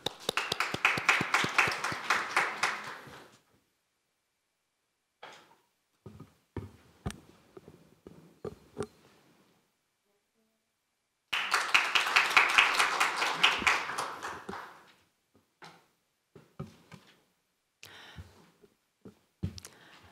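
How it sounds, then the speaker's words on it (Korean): Audience applause at a youth speech contest final, in two loud bursts of dense clapping a few seconds each, separated by a stretch of sparse, scattered claps and taps. "다음은 봉한나 참가자의 연설을 박수로 들어보겠습니다."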